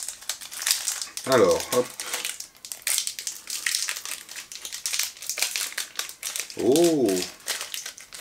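A plastic snack wrapper, holding a layered chocolate snack, crinkles and rustles in sharp bursts as it is torn open close by, while someone speaks briefly over the crackling.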